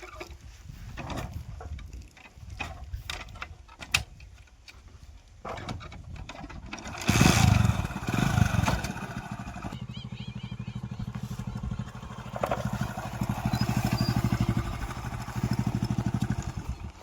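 An old, worn-out motorcycle engine starts up and keeps chugging with a rough, rattling drone, preceded by scattered knocks and clicks, with some faint voices in the background.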